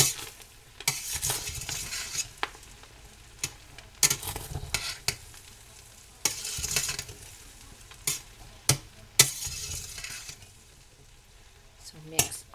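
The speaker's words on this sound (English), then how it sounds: "let me stir this up. And we got a nice brown on this hamburger." Browned hamburger meat for chili sizzles softly in a pot while a utensil scrapes and stirs it, with repeated clanks against the pot and occasional talking over the quiet frying.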